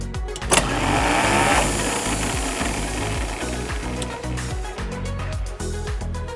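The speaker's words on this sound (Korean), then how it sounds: "전원을 연결해서 어떻게 작동되는지 보여드리겠습니다. 네, 피니언의 위치가 모터가 회전하면서 옆으로 이동하는 걸 볼 수 있습니다." A Bugatti Type 49 starter motor runs on bench power off the car, giving a loud, steady electric whirr with a rattling mechanical chatter as the pinion shifts sideways, continuous throughout with no voices.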